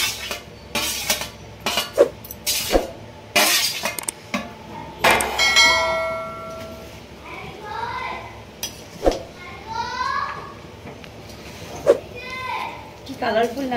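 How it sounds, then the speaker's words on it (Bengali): Fried rice with vegetables and homemade spice mix being stirred in a pan, giving repeated metal scraping clinks and clatters of a spatula on the pan, fairly close, with someone talking over much of it. "এবার নেড়ে নেব।"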